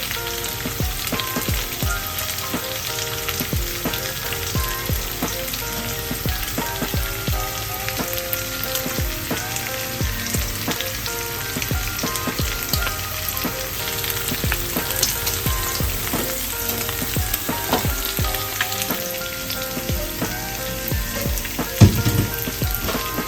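Tofu and ground meat frying in a pan for mapo tofu, a dense continuous sizzle and crackle with scattered scraping stir strokes throughout, close and steady, with no voices.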